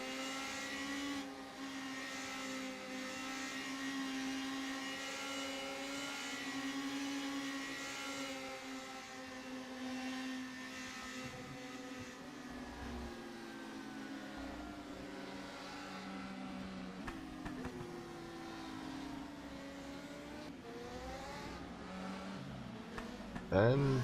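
Race cars in rFactor 2 at Blackwood doing burnouts on the straightaway, several engines revving and droning steadily with shifting pitch, tyre noise running underneath and a brief louder burst at the end.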